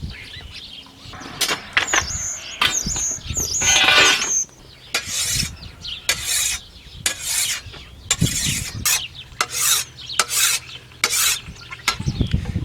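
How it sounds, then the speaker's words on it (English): A hardened steel American-style scythe blade being sharpened by hand, with repeated scraping strokes in irregular bursts, fairly close and clear with no talking. "I've got the tougher blade installed, but first I have to sharpen it."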